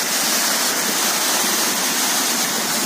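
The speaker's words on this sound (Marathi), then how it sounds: "हा बघा धबधबा कसा आहे" Loud, steady roar of Birthi Falls at Munsiyari, Uttarakhand, with the waterfall's broadband rushing noise filling the whole stretch without a break.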